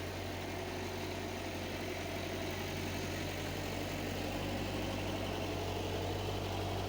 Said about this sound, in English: reversing the tractor in to pick the trailer up